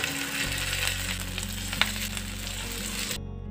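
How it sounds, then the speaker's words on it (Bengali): Corn fritters deep-frying in hot soybean oil make a continuous dense bubbling sizzle with a low steady hum underneath and one brief sharp click, close and even until it cuts off abruptly. "এবার আমি একটা একটা করে বড়ার আকারে বড়াগুলো ভেজে নিব।"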